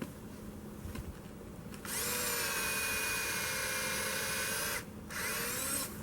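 A power drill bores a tap hole into a maple tree trunk, a close, loud, steady high-pitched whir that runs for about three seconds, stops briefly, then starts again.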